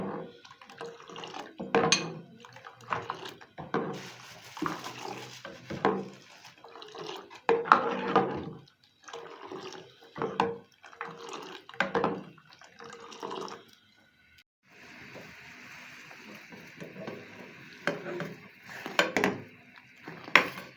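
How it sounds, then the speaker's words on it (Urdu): Kashmiri pink tea whisked and churned vigorously in a pot, bursts of sloshing, splashing liquid and clattering metal in uneven rhythmic strokes with brief pauses, close by and without talk. "ویورز دیکھیں تقریباً 4 سے 5 منٹ ہو گئے ہیں مجھے چائے کو ایسے پھینٹتے ہوئے"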